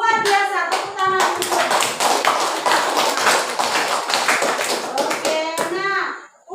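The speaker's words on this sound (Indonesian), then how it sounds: "Luar biasa, tepuk tangan." Classroom of children clapping in steady applause, dense rapid hand claps throughout, with a few young voices calling out at the start and end.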